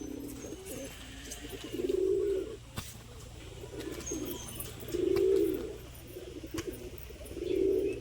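A pair of pigeons coo nearby in three deep, rolling phrases spaced a few seconds apart, with soft rustling between them.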